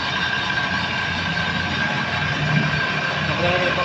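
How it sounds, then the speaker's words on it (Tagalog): A Mazda engine runs at a machinist's workplace with a steady, even idling drone and a low rumble, constant and close for the whole stretch. "nagre-report tayo ngayon ng makina ng Mazda"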